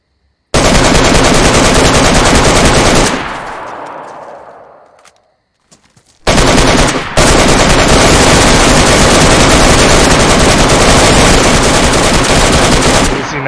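Sustained automatic gunfire in DayZ pours into a damaged wall: a loud, dense burst for about three seconds, a fading tail and short gap, then another long continuous stream of rapid shots to the end.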